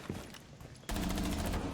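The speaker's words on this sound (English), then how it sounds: "I'm gonna shoot the windows again." Valkyrie's gun firing at windows in Rainbow Six Siege, a sudden burst of rapid shots after a quieter start, loud and dense through the end.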